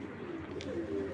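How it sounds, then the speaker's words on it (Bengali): A pigeon cooing close by in a loft of flying pigeons, a low, soft, throaty coo rolling steadily through the short moment with no talk over it. "কবুতরের ডাকটা অনেক সুন্দর, কবুতরের ডাকটা অসম্ভব সুন্দর।"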